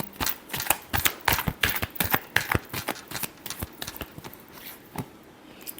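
Tarot cards being shuffled by hand: a quick run of crisp, dry clicks and flicks in an uneven rhythm, close and fairly quiet, with no talking.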